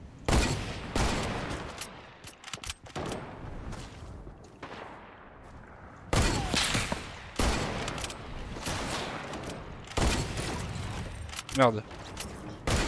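Rapid bursts of gunfire from a sniper shooting video game crack out repeatedly in loud clusters, with brief pauses between volleys, while someone talks and swears over the shots.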